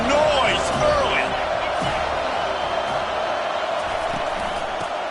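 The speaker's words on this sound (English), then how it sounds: "This crowd bringing the energy and noise early." Stadium crowd roar in the NCAA College Football 25 video game, a dense, steady wall of cheering and noise under continuous commentator speech.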